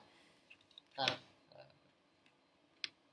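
A faulty computer keyboard clicking during a programming lesson, with a few sparse, faint clicks and one louder tap in a quiet room.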